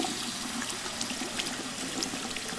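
Kitchen sink tap in the video game Life is Strange 2 runs with a steady, bright splashing stream of water, filling the whole moment evenly and fairly loud with no talk.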